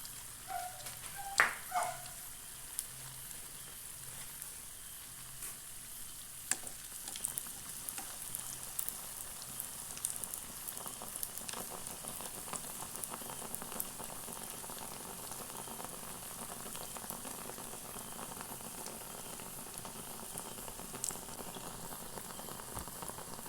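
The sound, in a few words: batter frying in hot oil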